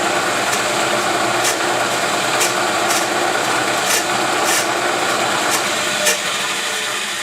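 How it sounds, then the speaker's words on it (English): A milling machine in back gear cuts metal in a home workshop, giving a steady loud grinding whir with sharp scraping ticks recurring every second or so throughout. "so you can actually see some milling"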